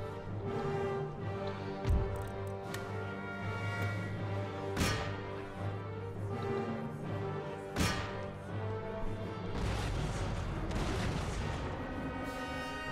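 Cannon artillery in the game Empire Total War booms several times over a steady rumble of battle, the shots landing about every few seconds and fairly loud.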